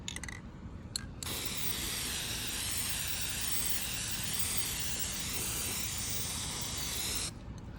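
A continuous aerosol spray hisses steadily for about six seconds, close and even, preceded by a couple of short bursts, as paint is sprayed over Turbo Can paint on a cardboard panel.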